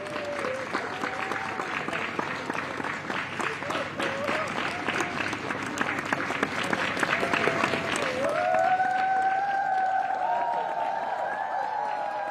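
Crowd applause and cheering as a pair arrive at the Foreign Office, where people wave Ukrainian flags; dense, sustained clapping throughout, with whistles or shouts rising toward the end.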